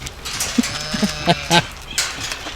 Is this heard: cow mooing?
yes